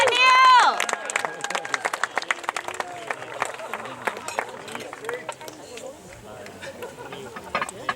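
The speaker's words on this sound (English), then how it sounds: "If we could please give a round of applause to Neil as he makes his way up here" Wedding guests applaud a best man walking up to give his speech, dense clapping with cheers and shouts from the room, a loud whoop at the start, continuing steadily and thinning slightly toward the end.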